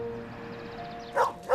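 A dog named Bruno gives two quick barks a few tenths of a second apart, heard at moderate distance over a steady background hum.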